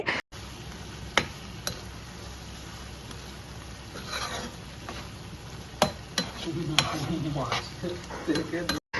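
Spices and vegetables sautéing in a pan with a little water for Bengali pomfret fish curry, a low steady sizzle under repeated stirring scrapes and occasional sharp clinks of a utensil against the pot, close by.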